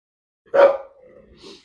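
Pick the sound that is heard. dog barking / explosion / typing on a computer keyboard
dog barking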